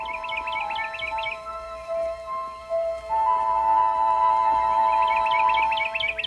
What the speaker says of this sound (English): More slowly, little bird.